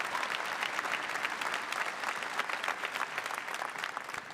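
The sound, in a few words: graduation audience applause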